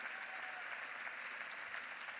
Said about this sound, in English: Could we have one last round of applause for our downtown stars